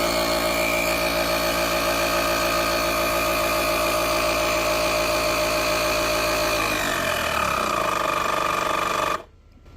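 A Travelman T1 jump starter's built-in air compressor buzzes loudly and steadily up close as it pumps to 20 PSI, its pitch dropping slightly near the end before it cuts off abruptly.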